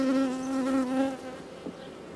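A single honey bee buzzes close by at an open hive during a colony inspection, a steady drone for about a second before it trails off into quiet hive background, with no speech.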